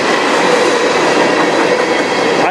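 A rare CP locomotive pulling a train past on a CN line, a loud, close, steady roar of rolling wheels and rail noise with no voices.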